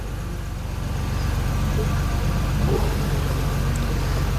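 A Peugeot 208 with a suspected wet-belt failure idles steadily after starting, a low even engine hum that holds constant with no revving or voices.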